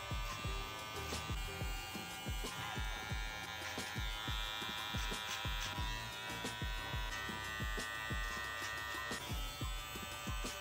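A budget electric beard trimmer buzzes steadily while shaving a beard, its tone dipping and catching in quick repeated strokes as it passes through the hair, close to the ear.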